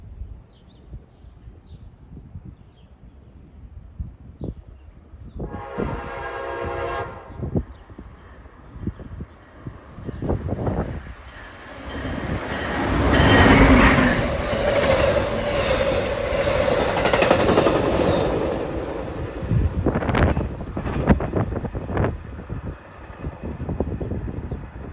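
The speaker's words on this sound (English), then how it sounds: "approaching westbound at 6:03 is train 651 en route from New York to Harrisburg." Westbound passenger train 651 on the Keystone Corridor at Malvern, en route from New York to Harrisburg, comes near with a brief horn blast, then a loud, swelling rumble and rail clatter as it passes close by, fading slowly afterward.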